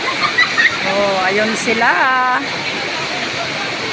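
A river flows steadily, its broad rushing wash continuous and fairly loud beneath a person speaking close by.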